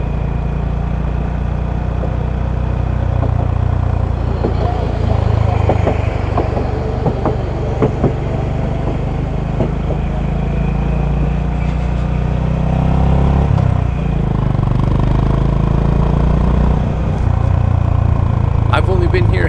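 A motorcycle riding through the city streets of Kagoshima in southern Japan, a loud continuous engine drone with wind rush that swells and eases slightly as the bike cruises along.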